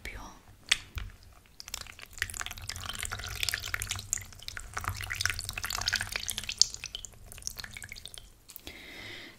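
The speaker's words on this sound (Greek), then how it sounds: "Σου άρεσε ο ήχος από το νερό?" Cool water in a small plastic container sloshes and drips as cloths are wetted, giving soft close trickles and drops beneath quiet, intimate speech.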